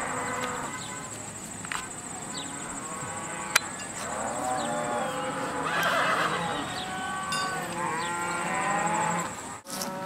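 Cattle moo repeatedly on a Missouri farm at a horseshoeing school, low calls rising and falling at middle distance, with horses and other farmyard noise around them.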